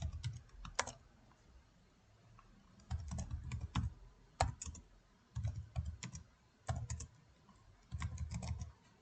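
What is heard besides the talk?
typing code on a computer keyboard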